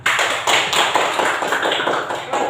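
A classroom of students claps their hands together in a steady burst of dense, lively applause, close and loud throughout.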